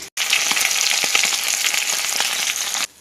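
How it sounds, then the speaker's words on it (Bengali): Fish pieces fry in hot oil in a pan in a village kitchen in the Sundarban, giving a loud, continuous, close sizzle that begins abruptly and cuts off near the end. "একে একে সব মাছ ভেজে নেব।"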